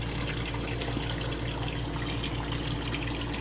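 Tap water runs steadily into a kitchen sink while raw chicken is rinsed under it, a continuous close splashing wash with no talking.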